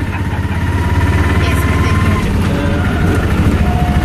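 Steady loud drone of a tuk-tuk auto rickshaw engine during a ride in Mombasa, a constant rumbling idle-like putter throughout with faint road noise.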